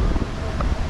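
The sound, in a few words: wind at Six Flags Magic Mountain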